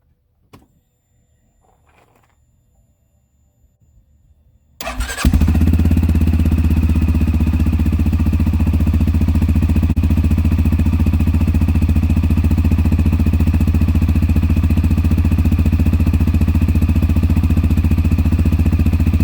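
A few faint clicks in near-silence, then a CF Moto Cforce 600 Touring ATV engine roars to life close by and runs loud and steady with a rough, throbbing exhaust.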